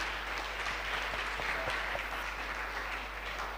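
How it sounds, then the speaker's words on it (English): An audience at an alumni homecoming seminar claps steadily throughout, a dense, even patter of many hands at moderate distance with no talking over it. "Please, a hand of applause to him."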